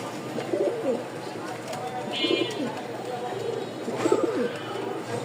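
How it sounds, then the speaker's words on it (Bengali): A male Rajshahi Giribaz pigeon coos repeatedly in low, throaty rolling calls, close by, while a person talks in the background. "এই আর একটা পেয়ার দেখছেন নরের ডাক"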